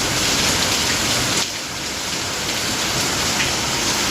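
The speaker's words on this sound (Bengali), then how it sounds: "এখনও বৃষ্টি হচ্ছে।" Steady, dense rain hisses throughout, with a brief dip in loudness partway through.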